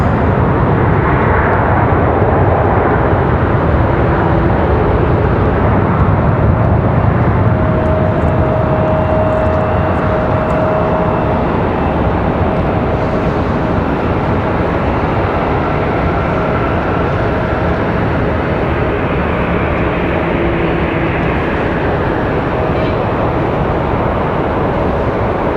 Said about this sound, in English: Nice smooth landing there for Delta.